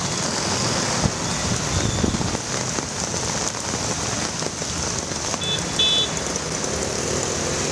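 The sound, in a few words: heavy rain in Chennai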